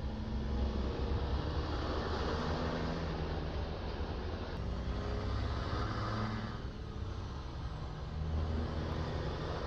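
Vehicle engine in a farming roleplay video game, a steady loud drone with a low rumble and slight dips in pitch as it downshifts, heard alone with no talk.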